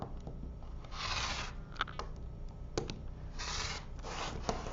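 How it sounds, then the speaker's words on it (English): A rotary cutter and Creative Grids trim tool scrape and rasp along quilt fabric in soft, close strokes, with a few light taps of the ruler between cuts and no talking. "I'm going to trim the other 2 sides."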